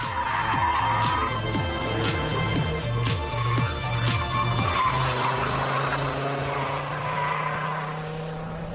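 A TVR T350C sports car slides with its tail out, tyres skidding and squealing over a loud, revving engine note that rises and falls, close and continuous throughout with no talking.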